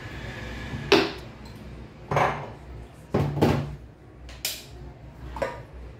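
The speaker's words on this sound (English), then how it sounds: "I'm going to use my sufuria because I don't have a baking pan." A metal sufuria cooking pot is handled in a home kitchen for baking, with several separate clanks and knocks spaced a second or so apart, close and fairly loud against a quiet room.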